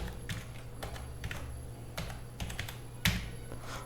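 Steady typing on a computer keyboard as a name is entered, with irregular bursts of close, crisp key taps and a louder final keystroke near the end, with no voices.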